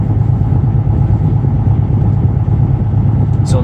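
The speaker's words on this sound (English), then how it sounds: "I'm just warming up my engine" A truck engine idles on a cold morning while warming up, a loud, steady low rumble close by, with a brief higher sound near the end.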